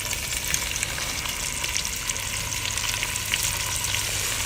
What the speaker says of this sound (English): I'm going to add some olive oil to my Dutch oven. And I'm just going to sear these off.